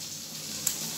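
Egg and potato frying in a pan give a steady, soft sizzle at close range, with no voices over it.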